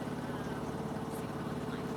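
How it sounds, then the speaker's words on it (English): Engine running steadily on a K-Rigg pressure smoker while salmon is pressure smoked, a continuous even droning rumble with no breaks, close and moderately loud. "Start your engine right back up."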